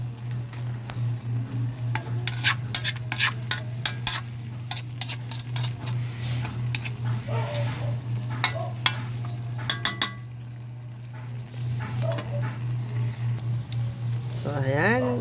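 Fish and sardines being stirred into a coconut milk stew with moringa and string beans, the pan sizzling under a steady low hum while a utensil scrapes and clinks in quick bursts, with a person talking intermittently throughout.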